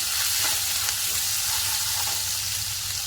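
Onion and green chillies frying in oil for a Marathi spiced leftover-rice dish give a steady, dense sizzle that stays close and even throughout, with faint utensil touches and no talk.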